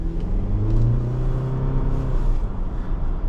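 A 2025 Jeep Wrangler Sahara 4xe with a turbo four engine and electric motor pulls forward, its engine drone rising in pitch under a steady low road rumble heard from the cabin.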